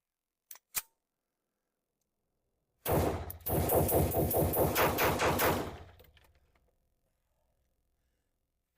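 A pistol fitted with a RONI kit fires a fast string of about a dozen evenly spaced shots over roughly three seconds. A couple of sharp clicks come first, then silence.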